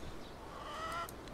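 A chicken in the Bellwright video game clucking softly, a few faint short clucks over a low steady game ambience, with no talk.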